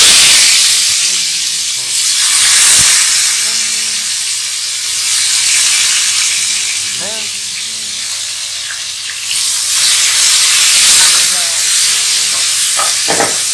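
Onions frying in hot oil for tehari, giving a steady loud sizzle and hiss with occasional stirring scrapes.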